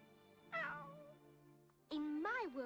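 Two meows from a cartoon cat, the first drawn out and falling, the second louder with a rising then falling pitch, clear against quiet background music.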